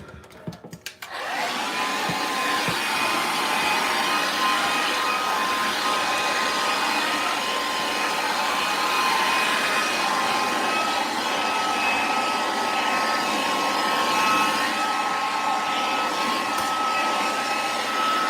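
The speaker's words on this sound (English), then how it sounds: "let me just dry my hair a little more" A hair dryer blows steadily while drying hair, a loud, even whoosh with a faint whine that starts after a brief click and runs unbroken close to the mic.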